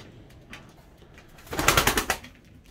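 Pigeons cooing in an attic, a faint soft call and then a louder close run of rhythmic throaty coos lasting about half a second.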